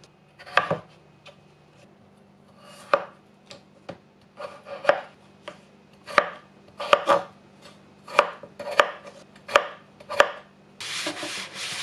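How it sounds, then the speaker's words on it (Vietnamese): A knife chops potatoes repeatedly on a cutting board, about a dozen sharp knocks in an irregular rhythm, close and clear, ending in a brief rustle. "Khoai tây sau khi rửa sạch, anh chị em và các bạn cắt ra nhỏ nhỏ vừa phải thôi"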